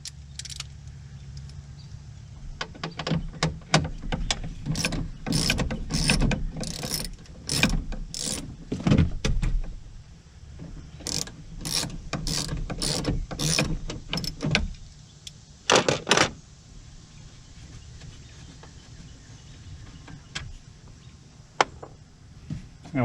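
A ratchet and 10 mm socket work bolts loose from the door panel of an H2 Hummer, sending out loud, close bursts of rapid pawl clicking with pauses between the runs and a few faint clinks near the end.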